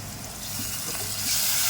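Water is poured into masala frying in a pan, giving a short wet gush and sizzle that swells toward the end, with no talk.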